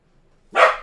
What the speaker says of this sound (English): What are we barking at, Max?